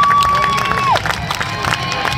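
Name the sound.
crowd applause and cheering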